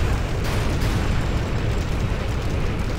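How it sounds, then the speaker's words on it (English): A rocket barrage in the real-time strategy game Rise of the Reds: a continuous, loud rumbling wall of overlapping explosions with dense bursts and booms and no pause. "we've got some rocket barrages going on the opposite side"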